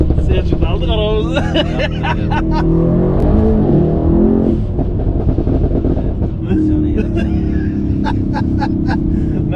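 A Mercedes W213 E63s with stage 2+ tuning roars loud and close, its exhaust rising and falling through revs, while people talk over the engine.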